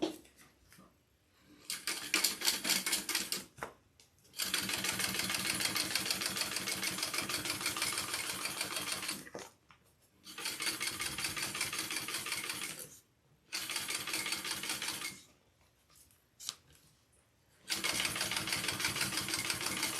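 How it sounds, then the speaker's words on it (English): Sewing machine top stitching a seam on the base of a Monroe garment, loud steady whirring bursts of running stitches several seconds long, broken by short pauses between runs. "So you're gonna top stitch on the base"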